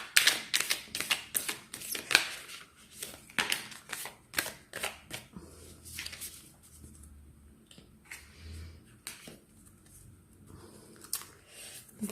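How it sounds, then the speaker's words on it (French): Very thick tarot cards are shuffled by hand with some difficulty, making dense flurries of crisp riffling and slapping at first, then sparser soft card sounds with a faint murmur underneath. "Elles sont très très épaisses ces cartes-là, elles ont du mal à se mélanger et du mal à glisser."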